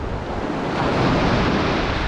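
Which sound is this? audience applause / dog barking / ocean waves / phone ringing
ocean waves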